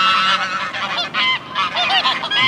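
Loud, continuous honking from many geese at once on a waterfront in Alanya, Turkey, a dense overlapping racket of harsh calls close by.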